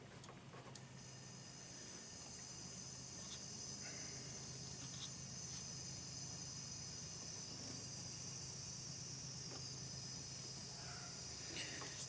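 An airbrush spraying out paint while painting Warhammer miniatures, a long, even, soft hiss that starts after a brief click and runs steadily close by with no talking.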